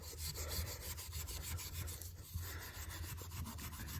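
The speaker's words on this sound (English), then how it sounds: "I'm using a super, super fine steel wool." Wet, super fine steel wool rubs back and forth on the weather stripping of a 1971 VW Westfalia camper, giving a soft, quiet, rhythmic scratchy scrubbing close by with no voices.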